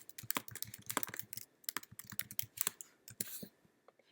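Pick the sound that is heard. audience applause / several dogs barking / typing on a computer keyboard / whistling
typing on a computer keyboard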